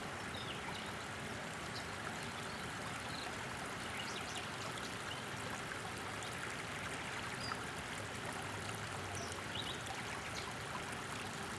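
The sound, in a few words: stream of water trickling and cascading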